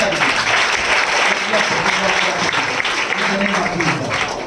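A church congregation claps loudly for the Lord in dense, sustained applause that fills the hall, with voices mixed underneath.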